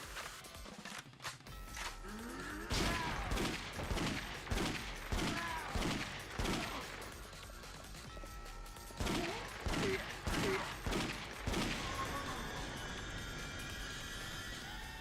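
Rapid bursts of gunfire from shooting in the video game Yakuza: Dead Souls, loud, repeated volleys in two clusters with brief pauses between, over a steady game background.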